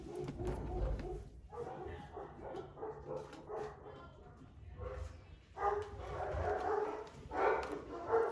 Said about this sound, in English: They're freaking out because my partner just brought groceries home.